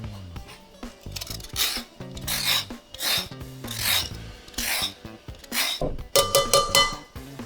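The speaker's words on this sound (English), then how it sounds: "Just crush the lime on your board again so you get more juice" A lime is pressed and rolled on a cutting board to loosen its juice, making a series of soft, close rasping rubs in uneven strokes, with a few quick taps at the end.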